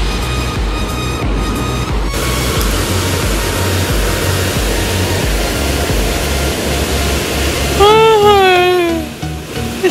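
Fast flood water rushes past in a dense, loud, continuous roar, close by, with a faint tonal whine early on and a rising, wavering tone near the end.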